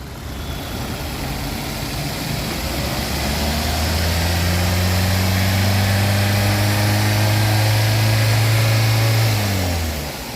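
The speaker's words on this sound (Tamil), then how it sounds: "இப்போ நம்ம வண்டி இன்ஜின் ஸ்டார்ட் ஆகிடுச்சு" A Maruti XL6 car engine idles with a smooth, even low hum for about ten seconds, its pitch sagging slightly near the end.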